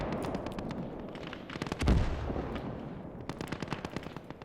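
Artillery and gunfire in a war video game set during a Soviet beach assault near Seattle: rapid, rattling bursts of automatic fire with a heavier booming blast near the middle, rolling on continuously at moderate distance.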